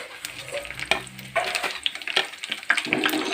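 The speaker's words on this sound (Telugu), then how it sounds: "వెల్లుల్లిపాయలు కొద్దిగా వేగిన తర్వాత ఎండుమిర్చి వేసుకుంటున్నాను" Garlic and dried red chillies fry in hot oil, with crackling sizzles and sharp pops rising and falling near the mic, broken by a few stirring clatters and no speech.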